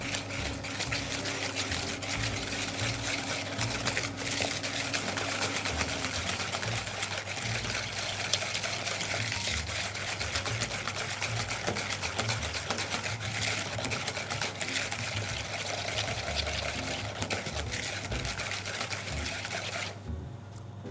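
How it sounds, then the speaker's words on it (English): Hand whisking of sugar, egg yolks and flour in a bowl for doughnut dough, a steady continuous scraping and rattling that runs close and moderately loud for the whole stretch without pause, no speech over it. "using a whisk, I'm going to start mixing the sugar, the egg yolks and the flour all together"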